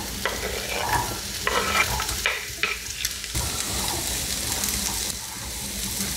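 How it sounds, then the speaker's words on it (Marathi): Carrot, corn and capsicum stir-fry in hot oil with a steady sizzle, broken up by the scrape and clatter of a spatula turning the vegetables in the pan. The sound is close and moderately quiet. "गाजर आणि मका 2 ते 3 मिनिटं परतून झालं की यामध्ये आपण घालतो ढोबळी मिरची"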